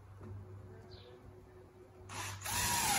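Cordless drill briefly whirring as it drives screws into a truck day cab's interior panel, a short loud burst near the end after quiet shop hum.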